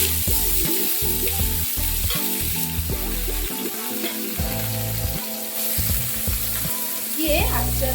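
Tomato, dates, cashews and raisins fry with a steady sizzle in a pan for a mixed chutney, stirred now and then, under constant background music.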